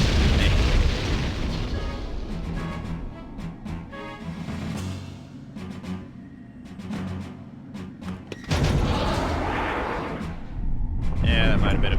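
Grenade blasts in a shooter video game, a series of booming explosion bursts with gunfire, loud and layered over game effects and background voices.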